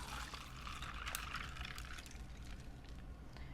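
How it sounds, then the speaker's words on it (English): Oat milk poured into a cup, a soft, steady liquid stream close by with no talking. "Pour that, pour it in your cup."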